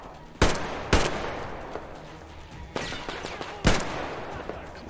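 Irregular gunfire in Metro Exodus, a few loud close shots in quick pairs among fainter distant pops and clatter, with no voices.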